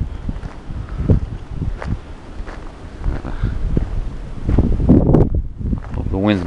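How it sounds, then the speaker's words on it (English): Gusts of wind buffet the microphone along a wooded walking trail, arriving as uneven bursts of low rumble with some rustling, while someone talks throughout. "Hope the wind's not blowing down through here too much to mess up the microphone."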